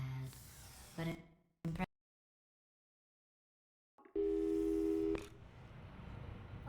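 Telephone call tones in the Portal 2 video game: short noisy bursts, then a gap of silence, then a steady electronic tone for about a second that gives way to low background hiss.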